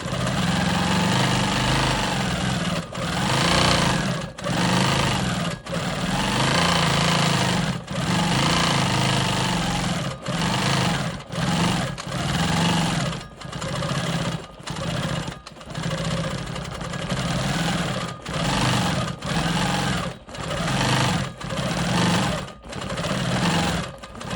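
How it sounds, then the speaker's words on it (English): A Quilt Maker Pro 20 quilting machine stitching smoky swirl patterns, a loud, close, steady mechanical whirr running in long bursts separated by brief pauses. "over here, I'm gonna go ahead and do my smoky swirls"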